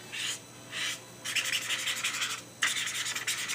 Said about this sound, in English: And you just keep rubbing it until it's gone